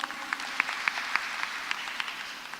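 A church congregation at a Kikuyu-language Sunday service at PCEA Thika Town Church claps, producing sparse, scattered hand claps that stay fairly faint and distant in a reverberant hall.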